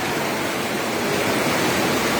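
Floodwater rushing through a channel during a flood and debris flow at Koto Tinggi, Maninjau, West Sumatra, overflowing from a blocked irrigation ditch; a loud, steady broadband roar of churning water, continuous and close, with no voices.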